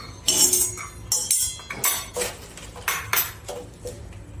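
Roasted makhana (fox nuts) being poured and scooped into a bowl, a series of light dry clinks and rattling bursts in quick succession, close and fairly quiet.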